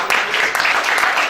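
Applause from a congregation at a church worship service in Gabon, a brief burst of clapping that fills the room at moderate loudness with no voices over it.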